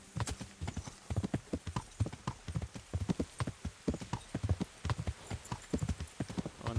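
Horse hooves gallop steadily in Kingdom Come Deliverance, a rapid, close, rhythmic clip-clop running without a break and heard alone.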